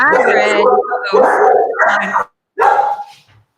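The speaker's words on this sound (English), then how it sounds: "Oh, there's my dog." A pet dog barks and yips in short loud bursts close by, mixed with people talking over a remote call.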